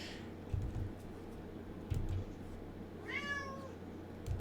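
A single soft cat meow near the end, rising then falling, over quiet background noise with a few faint bumps.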